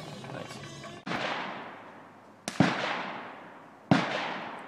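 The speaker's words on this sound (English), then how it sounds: "we're here at the Charlie Elliott Shooting Range" Gunfire at the Charlie Elliott outdoor shooting range in Georgia: three loud, sharp shots spaced a second or so apart, each cracking out and then trailing off in a long echoing decay across the open range.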